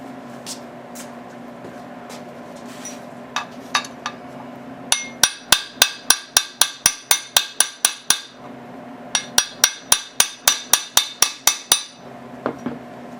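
Repeated sharp metallic hammer strikes on a steel drift punch, freeing a seized Briggs engine lever, delivered in two fast rhythmic bursts of about a dozen blows each, close and loud.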